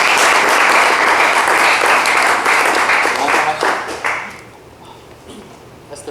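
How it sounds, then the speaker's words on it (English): Applause from an audience welcoming a founder and CEO at an entrepreneurship talk, dense and loud clapping for about four seconds before fading to a quiet room. "Let's give a round of applause."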